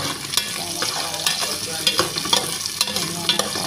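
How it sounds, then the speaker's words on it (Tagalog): Garlic, ginger and onion sizzle and fry in a pan for tinola, with steady crackling and occasional stirring scrapes and clinks throughout, close and fairly loud, no talking. "Naprito na natin ang mga sangkap, bawang, luya at sibuyas"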